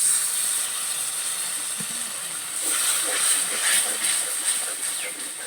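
Spice-rinse water poured into masala frying in a pan for an eggless cabbage omelet curry, setting off a loud, close hissing sizzle that swells midway and stays steady without speech.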